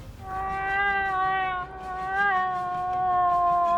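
A long, wavering, nasal call with strong harmonics, rising and falling in pitch, held for a few seconds; a human voice imitating a moose call.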